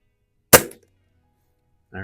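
A Stoeger X5 .177 springer air rifle fires once at a range, giving a single sharp, loud crack with a short ringing tail, followed after a pause by the start of a voice.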